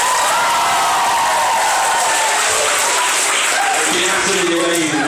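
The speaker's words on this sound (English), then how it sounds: "And round of applause for Miss Bennett" A school assembly audience in Bristol breaks into loud, continuous applause for a teacher, full-room clapping lasting several seconds with faint cheering and a voice creeping in near the end.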